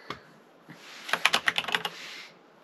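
A quick burst of keyboard typing, clattering keys pressed in rapid succession, close and fairly quiet against a soft hiss.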